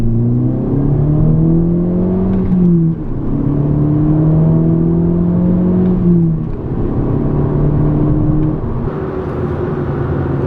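A VW Golf MK6 GTI accelerating hard, heard from inside the cabin: a loud, steady engine drone climbing in pitch through several gears, each upshift marked by a brief dip before the rise resumes.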